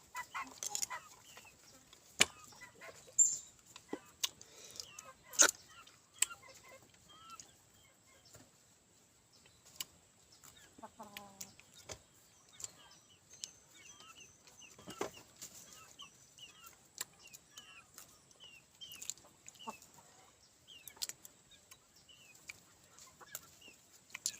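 Chickens cluck in a rural Thai outdoor spot where people are out gathering wild seasonal fruit, with scattered short clucks and chirps, fairly faint and irregular, broken by occasional sharp knocks.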